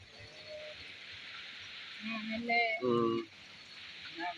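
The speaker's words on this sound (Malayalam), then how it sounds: "ഭയങ്കര മഴയാണ്" Heavy rain pours down as a steady, broad hiss throughout, with a few voices talking over it partway through.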